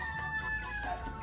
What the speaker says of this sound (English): Always some roosters in the morning to wake you up.